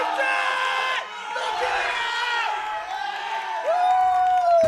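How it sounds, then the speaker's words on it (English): A crowd at a powerlifting meet cheers and shouts encouragement before a deadlift, excited voices and whoops rising and swelling in a loud, close hall. "Massive cheer crowd here."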